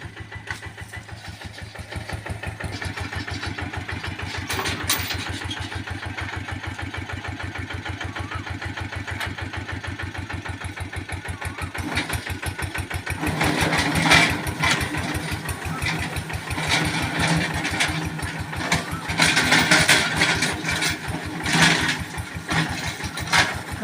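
Kubota KRT140 4x4 tractor running an RX100 rotary tiller through grass in a lime orchard, a loud steady chugging diesel drone that grows heavier and rougher partway through, with no talk.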